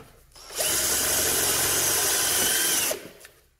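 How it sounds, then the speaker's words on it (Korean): A power drill bores through a sandwich wall panel, a loud steady high whine that starts abruptly, holds for a couple of seconds, then cuts off and winds down. "어쨌든 다시 뚫어 볼게요"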